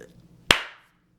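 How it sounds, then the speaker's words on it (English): A single sharp hand clap, close and loud, ringing briefly before fading into quiet. "That's a clap."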